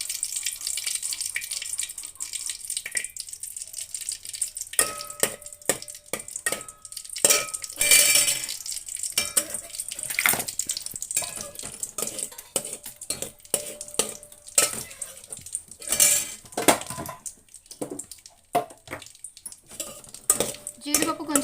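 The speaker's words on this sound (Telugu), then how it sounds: "ఫస్ట్ జీడిపప్పు వేస్తున్నాను" Cashews frying in melted ghee in a pan for wheat rava kesari, a light sizzle under frequent clinks and scrapes of a metal spoon stirring against the pan, close and uneven in rhythm.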